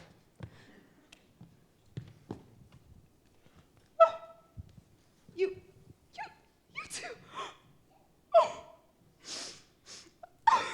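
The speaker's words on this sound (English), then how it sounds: "Got the sniffles?" Quiet nasal sniffs and snorts scattered irregularly during a school stage production of Rodgers & Hammerstein's Cinderella, several sharper sniffles and breathy snorts near the end, close and isolated with no talking.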